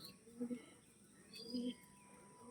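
Pigeons coo softly, giving two low, short, separate coos that are faint against a quiet background.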